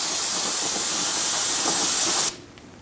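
Steady, loud hiss of a water spray rinsing a Chevrolet Cruze rear wheel hub, running continuously for over two seconds before cutting off abruptly, leaving a quiet tail.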